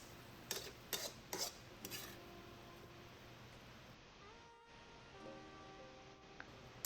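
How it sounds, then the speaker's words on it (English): Chow mein with mushrooms and oyster sauce is mixed in a pan with the heat switched off: a few sharp utensil clanks against the metal come first, then the pan settles into near quiet. "Switch off the heat and mix a few more times."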